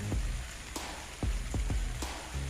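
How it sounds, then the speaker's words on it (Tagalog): Steady rain hissing across a wide band, with scattered heavier drops landing as sharp taps on a surface nearby. No voices. "so patuloy pa rin pong umuulan."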